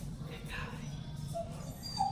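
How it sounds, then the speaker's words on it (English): A husky whines softly in high, thin whimpers, faint and close, with low background noise underneath. "The rare noise of a husky whining."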